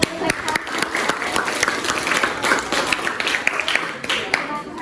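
Applause from a classroom of students, a steady burst of many hands clapping at close range for the full length, with a few louder individual claps.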